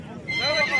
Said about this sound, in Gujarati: જાત જાતના ઘોડા છે જોવા હાલો